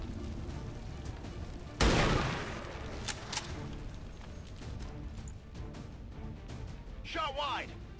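A single loud, sharp gunshot blast bursts out in the XCOM video game and rings into a decaying crackle. A brief voice-like sound comes near the end.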